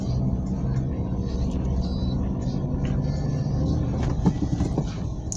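A car climbing a slope in low gear, its steady engine rumble continuous and fairly close throughout, with a few faint clicks and knocks near the end.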